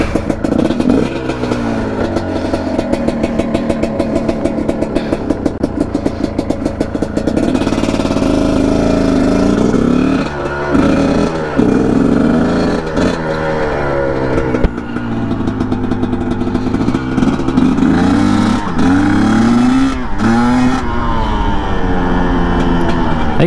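A 2021.5 GPX TSE250R motorcycle engine idles with a rapid, uneven chug, then is blipped repeatedly in short, sharp revs that climb and fall, loud and close with no talk.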